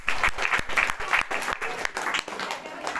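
A congregation at a prayer meeting gives a loud, vigorous round of applause in thanks, with dense rapid clapping close by that eases slightly toward the end.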